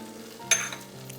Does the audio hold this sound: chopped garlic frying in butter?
yes